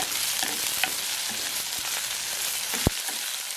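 Fenugreek seeds frying in hot oil for a fish curry, a continuous soft sizzle and crackle with small pops and one sharp click near the end.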